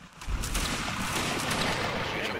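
A musket volley fired in the Mount & Blade Napoleonic Wars video game, a dense crackling fusillade of many overlapping shots that swells abruptly and sustains loudly for about two seconds.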